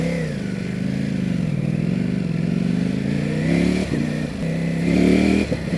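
A Ducati Panigale V4 sport motorcycle's engine pulls hard up close, its throbbing note climbing and sagging through a few throttle openings with no speech.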